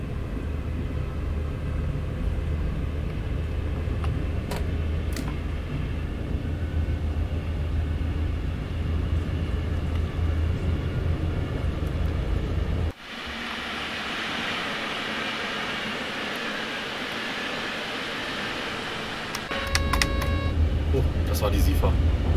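Simulated German N-Wagen passenger coaches from a Train Sim World sound mod rolling along the Rhein-Ruhr main line, a steady loud low rumble with a brief dropout midway and brighter noise returning near the end.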